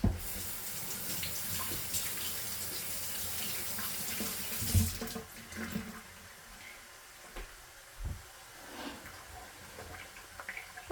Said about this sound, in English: Just give this a rinse.